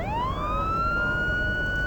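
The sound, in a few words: emergency vehicle siren, ambulance or police car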